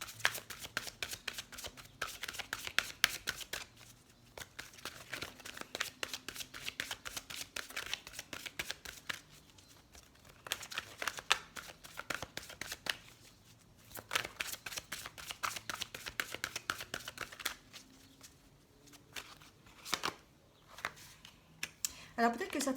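Oracle cards of a heart chakra deck are shuffled by hand in a quiet room, a long run of rapid crisp riffles and slaps repeating in bursts with brief pauses between them.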